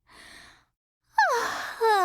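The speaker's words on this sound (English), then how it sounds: "Don't yawn, Lon." Yawning from voice actors in an audio drama: a soft breathy exhale, a brief pause, then a louder drawn-out vocal yawn that slides downward in pitch and ends with a rising tone, close and clear.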